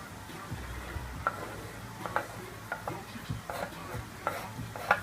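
Chopped cauliflower and small pieces of carrot go into a sauté pan, giving a soft steady sizzle with scattered light taps and clatters of the pieces landing and being stirred. The sound stays close and moderately quiet, with no talk.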